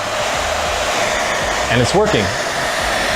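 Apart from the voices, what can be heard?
1200 watt hair dryer running on EcoFlow power station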